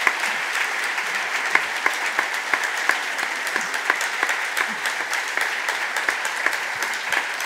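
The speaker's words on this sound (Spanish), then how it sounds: "Os pido un aplauso fuerte para Eduardo Mendoza." Audience applause for the writer Eduardo Mendoza at a book event, a steady patter of individual claps, moderately loud and continuous.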